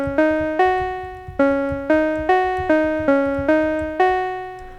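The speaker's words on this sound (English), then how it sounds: "this oscillator going into the VCA here, being controlled by this envelope, and then going into a filter with it all the way up" A synthesizer oscillator patched through a VCA shaped by an envelope and an open filter in VCV Rack, playing a repeating sequence of bright, buzzy notes that each start sharply and decay, with a soft low pulsing beat underneath.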